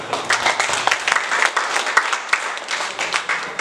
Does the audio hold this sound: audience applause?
yes